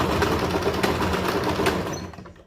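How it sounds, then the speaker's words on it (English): Sewing machine stitching elastic onto a fabric mask cover, a close, steady mechanical whirr with fast needle ticks that stops near the end. "So I just sewn that piece of elastic in there."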